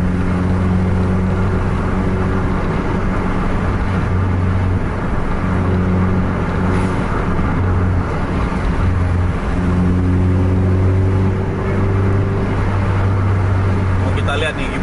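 A Pandawa 87 Mercedes-Benz bus drives fast on the road, giving a loud, steady engine drone with tonal hum that rises and shifts between gears, under continuous road noise.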